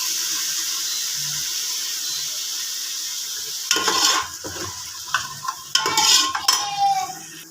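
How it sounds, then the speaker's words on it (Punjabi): Garlic and chopped ingredients for a simple Punjabi kadhi tempering sizzle and hiss steadily in a hot pan, with a spoon clattering and stirring in bursts over the frying. "ਲਓ ਜੀ ਤੜਕਾ ਆਪਣਾ ਭੁੱਜ ਚੁੱਕਿਆ"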